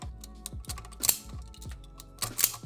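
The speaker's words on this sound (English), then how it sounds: "Strip these 2 wires." Two electrical wires stripped by hand during a DIY under-stairs light installation, heard as a close series of sharp clicks and snips with short ringing tails, irregular and fairly loud.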